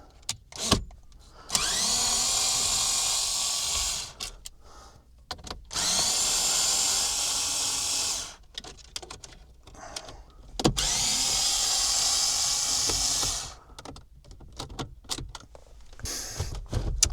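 A cordless drill-style power tool loosens T20 Torx screws holding a car stereo in a VW Polo, whirring in three sustained bursts of a few seconds each. Short clicks and handling noises fill the pauses between bursts.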